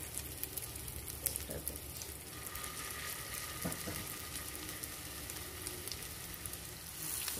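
Chicken meatballs browning in hot oil in a pan, a steady close sizzle and crackle running throughout with a brief spoken remark over it.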